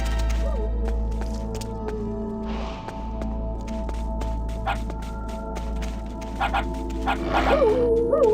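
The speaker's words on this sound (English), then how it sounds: "Wolf dogs. Half wolf, half husky." Wolf dogs, half wolf and half husky, bark in the video game Metal Gear Solid: The Twin Snakes, with several scattered yips and barks and a few whimpers over a steady low drone.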